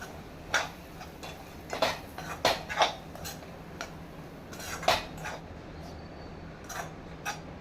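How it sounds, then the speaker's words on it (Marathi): Semolina and milk being mixed in a pan, the spoon ticking and scraping against the metal in irregular light clicks over a faint steady hum, close and fairly quiet, with no talking. "दूध रव्यामध्ये मिक्स करून घेऊया."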